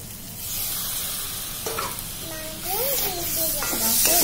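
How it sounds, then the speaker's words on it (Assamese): Chicken meat added to hot oil with red chili, a continuous sizzling hiss that swells louder near the end, with someone speaking over the frying. "ভালদৰে ভাজা হৈ গ'ল ইয়াত দি দিম মাংসখিনি"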